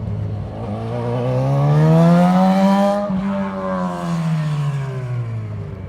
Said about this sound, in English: Even the loud cars and motorcycles.